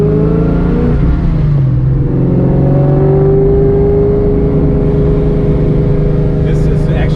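A Coyote-swapped, naturally aspirated 530 whp Foxbody Mustang pulls up through the gears, a loud, close engine drone rising and shifting pitch continuously, with a few faint clinks near the end.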